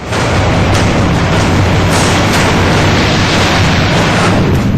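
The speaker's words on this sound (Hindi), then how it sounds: "भारत के शूरवीरों ने ऐसे ही बम बरसाकर आतंकी अड्डों को नेस्त नाबूद किया" Rolling, continuous roar of bomb blasts from an air force strike on a training camp, loud and dense for the whole stretch with low booming rumble and no gaps, no voices.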